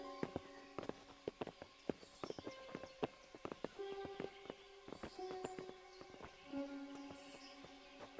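Horses' hooves clip-clopping on hard ground in the medieval video game Kingdom Come: Deliverance: a steady, uneven run of sharp hoof strikes from several animals over about eight seconds, moderately close, with faint tonal game sounds beneath.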